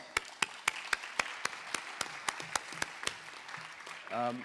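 An audience claps in a steady round of applause, with a voice starting to speak just as it fades.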